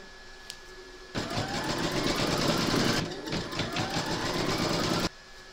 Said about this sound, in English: Load your thread colour for the eyes into your machine, and then stitch round number 2.